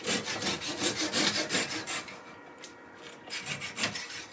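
Someone hand-saws a wooden block to size with quick, steady rasping strokes, pauses briefly, then resumes a few more strokes. The sawing is close and fairly quiet, with no talking.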